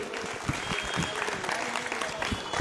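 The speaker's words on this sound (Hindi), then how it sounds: "एक बार जोरदार तालियां" An audience at an election victory gathering claps steadily and vigorously, a dense burst of applause filling the whole stretch without pause.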